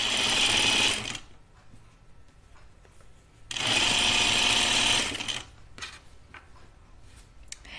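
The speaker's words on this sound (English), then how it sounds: "I'm going to sew the first seam all the way and I'm going to sew the top" A sewing machine stitches a French seam on a Grainline Studio Willow tank, running in two loud, steady bursts of about a second each, with quieter handling noises in between.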